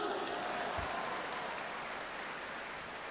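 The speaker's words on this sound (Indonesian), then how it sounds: "Andri Wongso, tepuk tangan dulu" An audience at a motivational success seminar claps in a steady, continuous wash of applause, moderately distant and even in level throughout.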